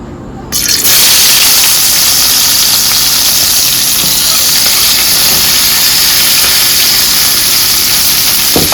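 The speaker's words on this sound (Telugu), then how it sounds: "ఈ ఆయిల్లోనే ఈ పెద్దల్లిపాయలు వేసేసి ఫ్రై చేసుకుందాం" Sliced large onions frying in hot oil over a high flame, cooked after bitter gourd in a Telugu kitchen; a loud, steady broadband sizzle bursts in after a brief quiet start and holds continuously.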